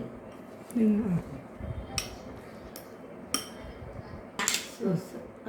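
A child stirs peppered sandwich filling in a bowl, with a spoon clinking and scraping against the sides in uneven bursts while voices murmur nearby.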